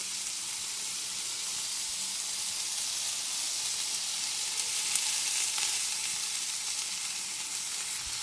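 Merguez sausages fry in a pan with a steady, even sizzle that holds at moderate loudness throughout, with no talking.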